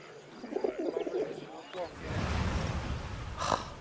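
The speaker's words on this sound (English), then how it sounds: "I know you've got a pigeon, and I know it's very clever." A pigeon coos in the WWI-era video game 11-11 Memories Retold, a low soft call rising over broadband ambient noise after a stretch of speech.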